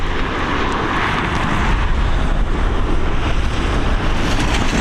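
An aircraft lands at Dublin Airport with a continuous, loud, broadband roar of engines and rushing air that holds steady throughout, with no voices.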